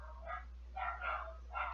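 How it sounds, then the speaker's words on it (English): Dogs bark indoors at a house with several dogs, three muffled bursts of barking that sound somewhat distant and faint, over a steady low electrical hum. "Sorry for the dogs, guys."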